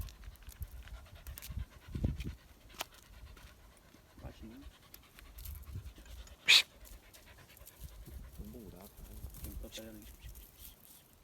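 Hunting dogs pant heavily in quick bursts during a tegu lizard hunt, close by, with occasional bird chirps, a sharp clack, and some muffled voices in the background.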